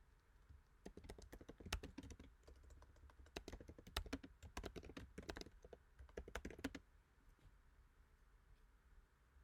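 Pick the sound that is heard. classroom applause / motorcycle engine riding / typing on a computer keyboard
typing on a computer keyboard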